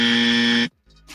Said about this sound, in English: Let's get this lady a dummy buzzer.